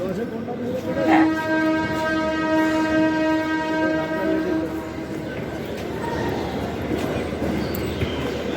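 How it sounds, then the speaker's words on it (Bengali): A train sounds its horn in a long sustained blast that fades after a few seconds, while a rumbling railway background and people talking continue underneath. "বসে গেছি আমরা ট্রেনে এখন আমাদের শুধু বাড়ি যাওয়ার অপেক্ষায়"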